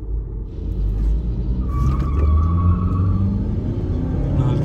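VW Virtus Stage 1 and Chevrolet Cruze in a drag race, a steady loud road rumble of engines under way at speed, with a brief higher whine partway through and no talk.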